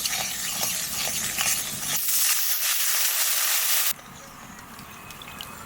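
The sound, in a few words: water and jaggery added to hot oil in a pan, sizzling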